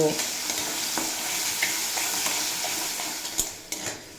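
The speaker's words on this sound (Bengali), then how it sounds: "আলুটা আমি স্বাদ মতো লবণ আর পরিমাণ মতো হলুদের গুঁড়ো দিয়ে ভেজে নেব" Potato pieces fry with salt and turmeric in oil for a cauliflower curry, a steady close sizzle broken by a few sharp clinks and scrapes of a spatula stirring the pan.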